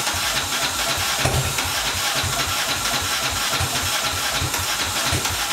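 A turbocharged, fuel-injected 660 lawnmower engine cranks over without firing, giving a steady, fast rhythmic chugging pulse under a constant loud hiss, close by, with no voices.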